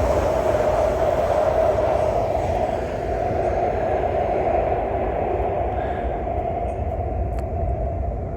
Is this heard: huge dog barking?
no